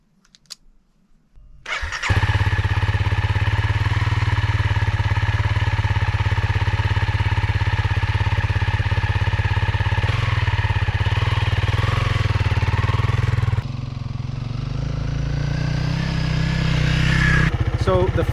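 A CRF dirt bike starts up and runs, its engine catching after a brief quiet moment and then holding a loud, steady buzzing drone that shifts slightly near the end.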